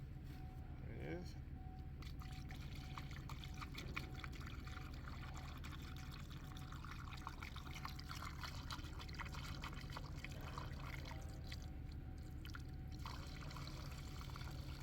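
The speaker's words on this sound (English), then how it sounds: "we're going to fill the cooling system until the coolant bottle go all the way up" Coolant poured into the cooling system of a Cadillac XT5 trickles and gurgles faintly and steadily under a low background hum, with someone talking over it.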